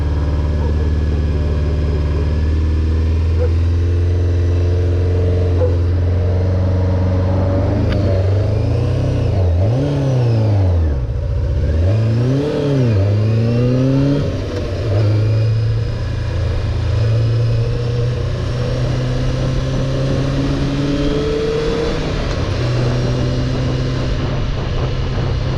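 A Honda CBR600F4 motorcycle with freshly rebuilt carburetors revs steadily while riding, its engine note rising and falling through several throttle blips over continuous loud engine and wind noise.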